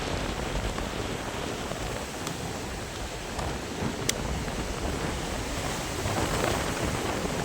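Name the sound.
sea waves at Gomti river shore, Dwarka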